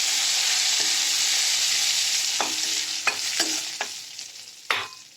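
A spoon stirring a sizzling tempering of oil with asafoetida and fresh coriander for pumpkin kadhi, a steady hiss broken by several sharp scrapes and clinks against the pan.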